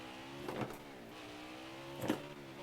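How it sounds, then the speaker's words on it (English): A car engine in a NASCAR Heat 5 racing video game drones steadily with two brief swells where the revs flare up during a burnout, the tone smooth and electronic-sounding. "I'm going to do a little burnout."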